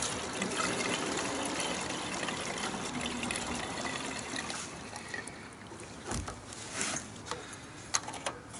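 Gasoline being poured gives a quiet, continuous liquid gush and trickle, thinning near the end with a few small knocks and splashes.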